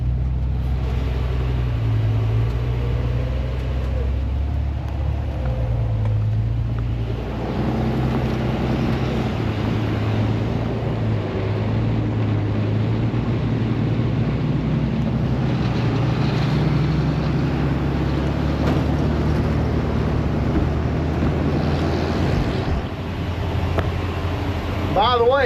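An old truck engine runs while driving, a steady, loud low-pitched drone with a rushing layer of wind noise throughout, unbroken for the whole stretch.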